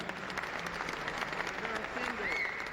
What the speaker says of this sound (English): Cindy Clark, sure, you go ahead and applaud.